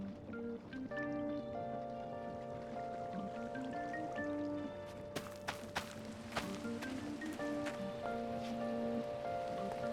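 Steady rain patters in the video game Minecraft over a soft broadband hiss, with sustained tonal hums and occasional sharper clicks layered in the background.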